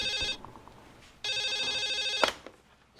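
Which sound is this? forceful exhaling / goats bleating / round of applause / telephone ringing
telephone ringing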